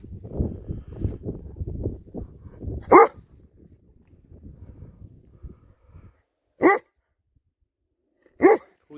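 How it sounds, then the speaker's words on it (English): A dog out rabbit and bird hunting barks three times in sharp, loud, well-spaced barks, following a stretch of quieter rustling and panting sounds. "Daft dog."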